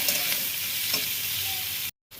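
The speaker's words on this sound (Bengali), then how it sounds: "তো পেঁয়াজ কুচিটা দিয়ে আবার ভালোভাবে ফ্রাই করে নেবো।" Chopped onion fries in hot oil with a dense, even sizzle and a few faint scrapes, then cuts off abruptly near the end.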